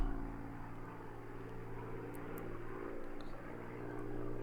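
Piston engine of a Spitfire in a flight simulator game droning steadily at a low, buzzing pitch as the throttle opens, loud and continuous with a slight swell toward the end, no voices.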